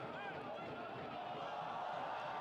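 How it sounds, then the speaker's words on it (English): A stadium crowd at a Charlotte Independence versus Birmingham Legion FC soccer match keeps up a steady roar with oohs and ahs, loud and continuous in the distance, while a voice talks over it. "Some oohs and ahs from the crowd as Johnson beat 2 defenders."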